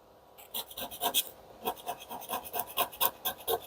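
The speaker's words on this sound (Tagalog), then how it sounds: "meron kayong basahan at napamunas para matanggal yung alikabok" A cloth wipes dust off the back of an Android phone in quick, close, rhythmic rubbing strokes, faint and alone with no talk.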